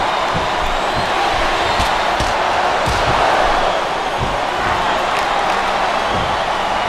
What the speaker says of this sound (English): A vicious stomp.